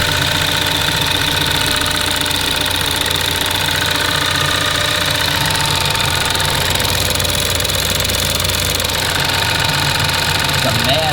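A car engine idles with a rapid, fine ticking from the lifters riding over a dense, steady mechanical drone, recorded close and loud throughout, with a voice talking over it.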